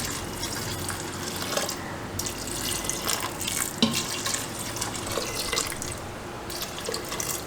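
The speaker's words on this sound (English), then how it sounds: "Now we are going to add water to it to cover it." Water pours steadily from a tap into a pot of rice, lentils and vegetables, a continuous close splashing rush with small drips and clinks.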